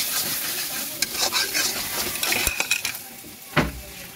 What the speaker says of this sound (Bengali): মশলাটা ভালো করে কষিয়ে নিই